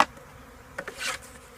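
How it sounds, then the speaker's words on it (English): Bees buzz around a beehive, close by. A short burst of insect buzzing swells and fades within about a second, with a few light knocks just before it and quiet outdoor background around it. "Bees are just surrounding this fella."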